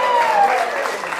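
An audience cheering and clapping in a brief burst, a dense wash of applause mixed with whoops and voices, heard close for about a second.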